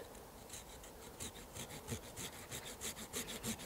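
A hand saw cuts across a piece of hard hornbeam wood to remove a small nub, giving steady back-and-forth rasping strokes, close and clear, with no talking.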